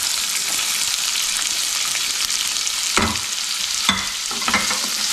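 Chopped onions sizzle steadily in hot oil, and a few sharp scrapes from stirring break through the frying hiss near the end.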